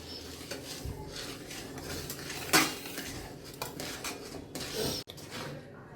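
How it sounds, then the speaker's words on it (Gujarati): Crushed peanuts are stirred into sugar syrup in a pot for sing paak, a peanut sweet. Quiet, close scraping and clinking of the spoon against the pot come in an uneven rhythm, with one sharper knock. "એ આપણે આમાં નાખશું ચાસણીમાં અને ધીમે ધીમે હલાવતું જવાનું છે"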